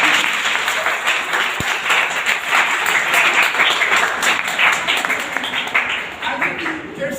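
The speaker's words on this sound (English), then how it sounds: "I would like to request you have a big round of applause for him." Dense, steady audience applause at a college get-together party, a continuous wash of many hands clapping that tapers slightly toward the end.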